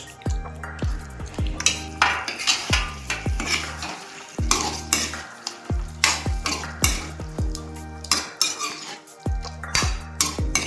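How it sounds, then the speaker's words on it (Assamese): Chicken sizzles and crackles in a pan over medium flame with ginger, garlic and onion paste while a spoon repeatedly scrapes and clinks against the metal in an uneven stirring rhythm. "এতিয়া ভাজিব লাগিব মাংসখিনি আৰু আদা নহৰু পিঁয়াজৰ পেষ্টখিনিৰ সৈতে"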